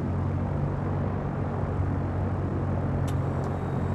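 A light aircraft's engine in the Dovetail Games Flight School simulator makes a steady, even drone that holds a constant loudness, with no voices over it.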